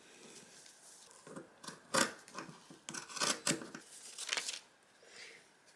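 Scissors cutting through a fabric skirt pattern, a series of close crisp snips and slicing crunches in irregular bursts, with quieter rustling between cuts.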